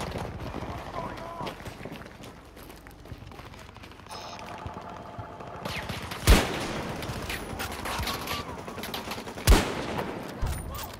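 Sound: gunfire in a first-person shooter video game

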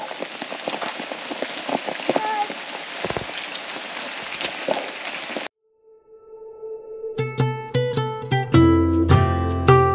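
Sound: rain falling at Ellenborough Falls

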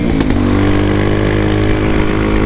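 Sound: Honda XR Tornado motorcycle with Belparts Classic exhaust popping

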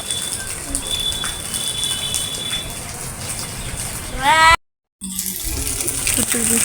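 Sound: accumulated rainwater being thrown off a rooftop

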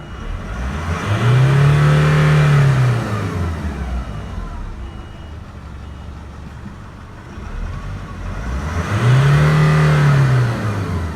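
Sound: pickup truck engine revving

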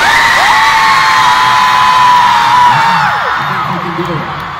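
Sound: concert crowd cheering at a show

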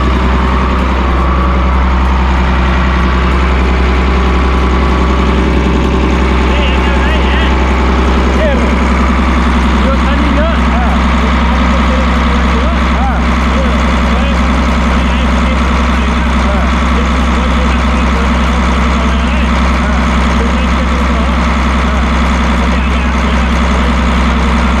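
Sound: large vehicle engine idling

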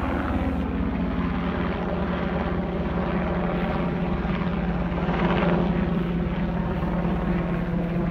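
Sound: helicopter hovering in the distance

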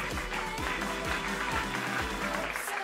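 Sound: audience applause at a press conference

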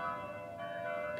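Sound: church bells ringing

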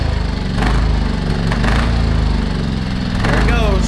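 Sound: small generator engine starting on choke

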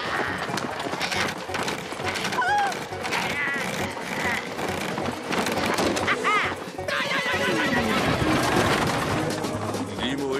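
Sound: horses neighing after being unhitched from stagecoach

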